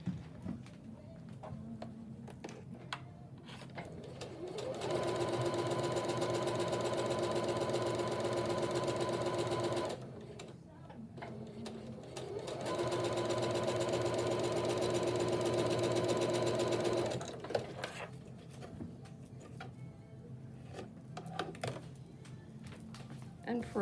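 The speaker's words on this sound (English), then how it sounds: "And sew that one in place." A sewing machine stitches quilt block pieces together in two steady runs of whirring, each about five seconds long, with quieter handling sounds before, between and after the runs.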